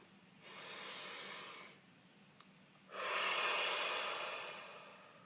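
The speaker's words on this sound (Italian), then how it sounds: "facciamo un bel respiro profondo" Two deep breaths close to the microphone: a long, airy inhale, a short pause, then a stronger, longer exhale that fades away.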